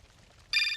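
A telephone rings in the Syberia Remastered video game, a modernized mobile phone: a sudden loud electronic ring bursts in halfway through after near silence and holds steady to the end.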